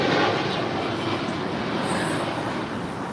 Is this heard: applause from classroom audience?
no